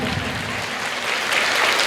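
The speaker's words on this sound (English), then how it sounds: "Give a big round of applause to the Arvind sir." A school investiture ceremony audience claps in a dense, continuous burst of applause from many hands, fairly loud and even throughout.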